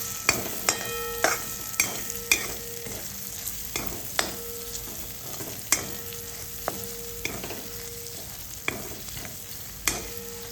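River mussels are sautéed and stirred into a curry in a pan, a spoon scraping and clacking steadily about every half second over a faint sizzle.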